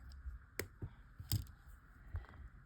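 Scissors trim a ribbon loop on a handmade keepsake ornament, giving two or three quiet, close snips with soft handling noise between them.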